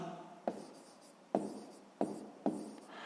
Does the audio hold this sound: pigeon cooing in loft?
no